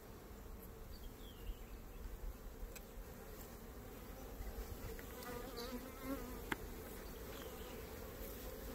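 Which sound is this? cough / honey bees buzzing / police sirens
honey bees buzzing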